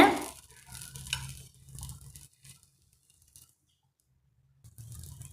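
A wheat and onion dosa cooks on a hot pan: a soft sizzle with a few scraping stirs at first, fading almost to silence midway before a quiet sizzle returns.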